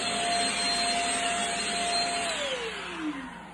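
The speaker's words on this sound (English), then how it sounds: "If you ever got flies and they're a problem, like that guy, just use a vacuum." A vacuum cleaner runs loudly and steadily as it sucks a fly out of the air, its whine dropping as the motor winds down near the end.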